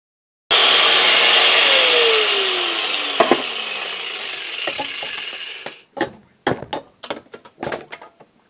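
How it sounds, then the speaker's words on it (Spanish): An angle grinder cuts and shapes a steel car leaf spring with a loud, piercing whine that winds down over several seconds, then a series of short, sharp grinding bursts, close and alone. "a darle una pasada con la pulidora, con la moladora, como quieran llamarle, para darle forma"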